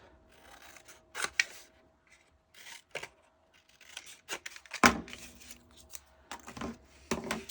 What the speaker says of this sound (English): So, snip the corners.